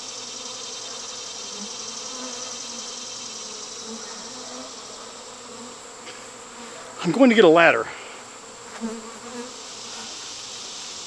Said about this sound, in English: I don't know why those bees are on the ground.